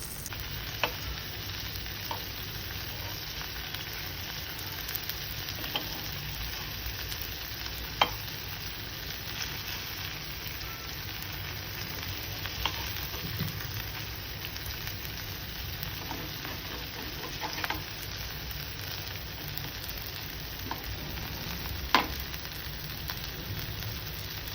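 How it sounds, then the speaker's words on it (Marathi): Marinated bombil, Bombay duck fish, frying in a pan with a steady hiss of sizzling oil throughout, broken by a few brief sharp clinks and pops, with no talk. "ते मॅरिनेट केलेले बोंबील याच्यात टाकून आणि फ्राय करायचं आपल्याला"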